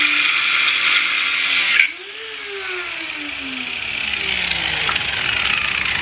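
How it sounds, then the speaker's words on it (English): An all-purpose cutter fitted with a brand new cutting wheel grinds through a bolt on a Nissan 350z, a loud continuous high whine that dips briefly near two seconds and then rises with a descending tonal sweep as it bites. "got a brand new cutting wheel on the all-purpose cutter, and we're going to try to just completely just cut this bolt off and grind down the rest"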